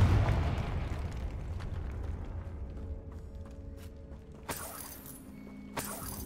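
A Confringo fire spell detonates in the Hogwarts video game, a deep booming blast at the start that rumbles and fades, followed by sharp crackling bursts later on, with no talking.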